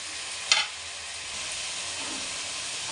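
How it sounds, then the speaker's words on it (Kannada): Ginger garlic paste frying in a pan for vegetable fried rice gives a steady, even sizzle throughout, with one brief clink or stir near the start. "ಶುಂಠಿ ಬೆಳ್ಳುಳ್ಳಿ ಪೇಸ್ಟು ಹಸಿ ಸ್ಮೆಲ್ ಹೋಗೋವರೆಗೂ ಸ್ವಲ್ಪ ಫ್ರೈ ಮಾಡಿಕೊಂಡು"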